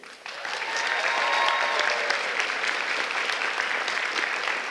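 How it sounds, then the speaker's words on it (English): An audience at a student achievement award ceremony for chemistry breaks into sustained applause, many hands clapping in a dense, even wash that swells quickly and holds steady in a large room. "thank you for her round of applause"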